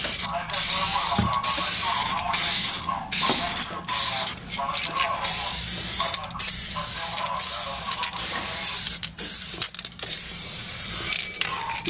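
Spectral 395 epoxy primer sprayed over a car body seam in short loud hissing bursts separated by brief gaps, close by, with someone speaking between passes.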